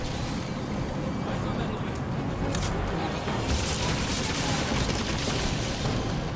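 Dense, continuous gunfire aimed at the pulse generator in Halo 5 rattles without pause, layered with loud game noise and rumble throughout.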